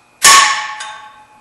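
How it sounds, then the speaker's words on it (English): A single sharp metallic strike of a hammer on a fan clutch nut rings out and slowly decays, with a faint second tap partway through; close and loud, no talking. "take your hammer, just pull it, and you give it a couple of good shots"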